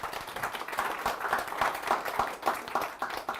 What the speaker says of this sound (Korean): 그 미얀마 대표님께 박수 한번 부탁드리겠습니다.